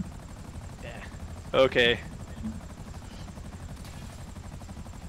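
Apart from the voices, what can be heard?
helicopter in Grand Theft Auto Online, from a video game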